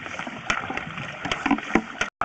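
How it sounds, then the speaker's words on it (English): Standing water sloshing back and forth in a sewer line as the vacuum breaks, a hollow gurgling slosh with a few sharper splashes over a couple of seconds, close and fairly loud. "There's a certain sound that's made when the kind of vacuum breaks when you slosh the water back and forth"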